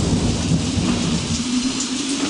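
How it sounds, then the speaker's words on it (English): Steady rain falls outdoors on a Tuesday morning, with low rolling thunder rumbling through a constant dense wash of drops; no one speaks. "It's raining outside."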